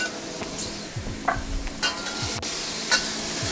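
Thai chilies hitting hot oil at the side of a wok give a steady sizzle, broken by repeated scraping and clinking of a spatula against the metal pan as the aromatics are stirred.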